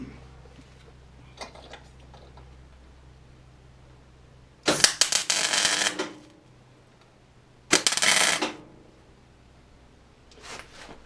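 Two short bursts of crackling MIG tack welding join leftover bolt stud pieces onto a car boot lock, each lasting about a second or so, with quiet workshop handling noises between them.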